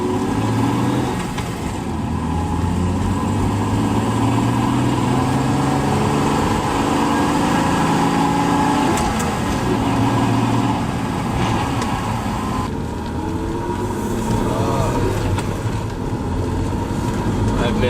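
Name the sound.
BMW E36 car engine driving with manual transmission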